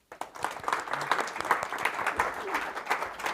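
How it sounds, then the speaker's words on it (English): Conference audience applauds to welcome a speaker onto the stage, a steady patter of many hands clapping at moderate volume throughout. "wish for a warm applause"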